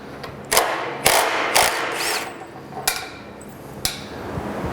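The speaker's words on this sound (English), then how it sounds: "we'll be removing this retainment cap off of the hex shaft with our 9/16 socket" A 9/16 socket wrench working a retainer cap off a hex shaft on a brass hex piece machine: a handful of sharp metallic clanks and ratchet clicks, close, spaced irregularly over a steady mechanical hum, with no talk.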